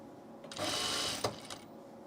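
A sewing machine runs one short burst while stitching the center back seam of a tunic, a steady whirring hum lasting under a second, then a brief clack and a couple of small mechanical knocks before quiet.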